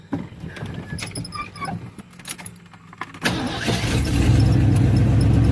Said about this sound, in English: Fired right up though.